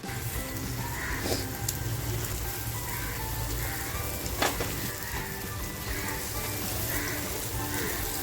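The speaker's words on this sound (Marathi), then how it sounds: "अशी छान आपल्याला ही सुरमई फ्राय करून घ्यायची आहे" Surmai (kingfish) fish frying crisp in a pan of hot oil, a steady dense sizzle and crackle running throughout with occasional sharper pops, close and continuous with no talk.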